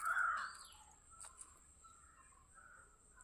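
A caw-like vocal imitation of a crow's call, one strong rising cry at the start followed by fainter tonal calls, quiet and close at a home beside a cat.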